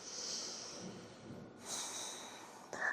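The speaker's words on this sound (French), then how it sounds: "Et dernière longue respiration." During a gentle yoga session, one long, slow breath is drawn in and then released, airy and close. A softer intake of air follows at the end.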